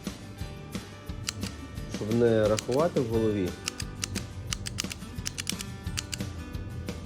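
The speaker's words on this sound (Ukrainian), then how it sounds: "Я просто маю таку клікер. Я рахую кількість людей, проходимість в годину біля нашого закладу." A hand tally counter clicks as a person counts passers-by outside a business, giving sharp, isolated clicks at irregular intervals, close to the mic, while someone talks throughout.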